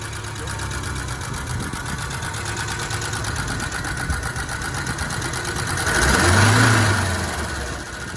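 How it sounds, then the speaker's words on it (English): A 1983 BMW 320i engine with a 5-speed, idling steadily before a single rev that swells near 6 seconds and falls back, close and fairly loud throughout. "Can you give it a little rev for us?"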